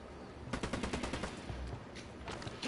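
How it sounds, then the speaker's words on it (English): Rapid bursts of automatic gunfire in the tactical shooter Ghost Recon Wildlands, a fast rattling run of shots at moderate level with brief pauses between volleys. "I'm shooting these fuckers."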